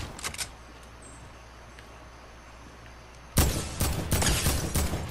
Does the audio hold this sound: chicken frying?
no